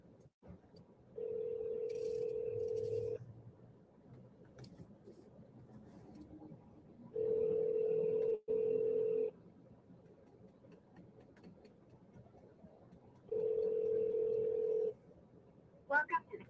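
Phone call ringing out toward voicemail: three long steady ringback tones separated by pauses, with faint background noise and a short click at the end, heard alone without talk.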